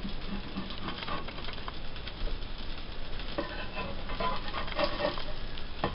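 Welsh cakes cook on a dry griddle skillet, giving a steady, soft, close sizzle with faint crackles. No one speaks.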